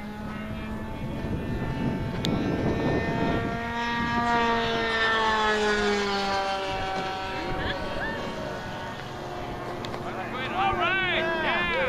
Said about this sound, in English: Bridgerland RC float plane fly-in.